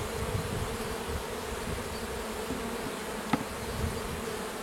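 Honeybees from a small swarm buzz densely around a Japanese-style hive, a steady close hum of many wings with a brief tap partway through.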